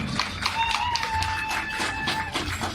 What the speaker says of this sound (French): Nous pouvons encore applaudir pour ce président du conseil de gestion, bâtisseur.